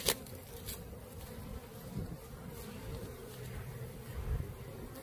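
Steady, close buzzing of many honey bees at a Langstroth hive during frame placement, a dense continuous hum with no talking.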